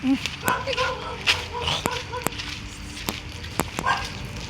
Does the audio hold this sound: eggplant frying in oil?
no